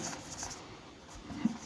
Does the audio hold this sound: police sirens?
no